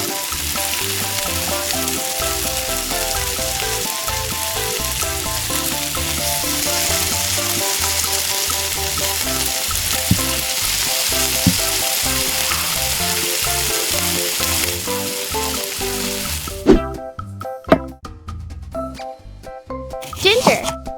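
Shrimp frying in hot cooking oil, a loud, dense, continuous sizzle that runs steadily for most of the time before cutting off into brief clinks and quieter kitchen sounds near the end.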